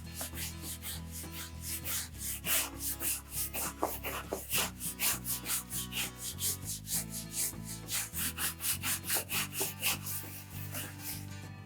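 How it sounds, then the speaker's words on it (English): A brush scrubs ground-in dirt off a leather saddle with saddle soap, steady rhythmic back-and-forth rubbing strokes, close and fairly quiet, with no talking. "this saddle soap is just what it says it is. It's soap, and it will actually clean the dirt off this piece of leather."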